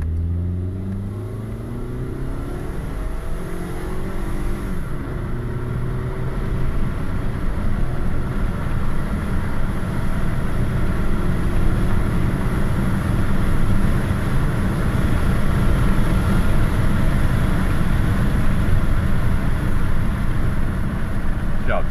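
Engine and road noise from a car being driven after an ignition timing fix, a steady broadband drone that builds slightly as it accelerates, heard from inside the cabin with voices over it.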